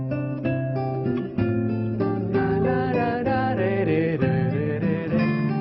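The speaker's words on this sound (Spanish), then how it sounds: "Está hecha de palo, tiene cuerdas de nylon y suena así." An acoustic guitar with a wooden body and nylon strings plays a melodic passage of plucked notes and chords, close and clear, with no voices over it.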